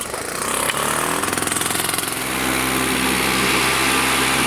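A hover lawn mower with a monofilament line cutter starts up, a sputtering pull-start chug quickly rising into a loud, steady high-pitched engine whine running close by.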